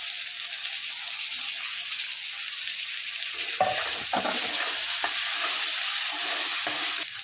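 Chopped tomato sizzling in a hot pan of onion and ginger-garlic paste, stirred now and then, a loud steady frying hiss with scraping stirs joining partway through.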